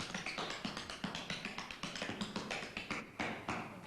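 Tap dance cymbal knocks struck with the side of the foot, a quick run of crisp percussive taps, some louder accents, close and alone.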